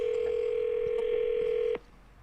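A telephone handset for a call made from a temporary number gives a steady, loud dial tone with faint button beeps, then the tone cuts off abruptly, leaving quiet line hiss.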